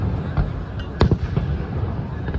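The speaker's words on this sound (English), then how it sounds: "you get to see a 5-minute fireworks display" Fireworks display over Niagara Falls on a summer night, with a cluster of sharp bangs and crackles near the middle, set against a steady rumble of the falls and crowd murmur.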